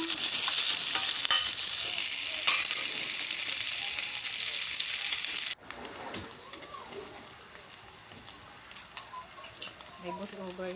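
Chicken and tofu sisig frying in a pan while being stirred, a bright sizzle that drops sharply partway through, then quieter crackling with scraping and faint background voices.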